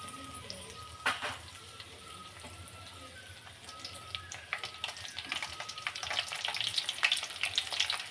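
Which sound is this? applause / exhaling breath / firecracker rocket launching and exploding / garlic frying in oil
garlic frying in oil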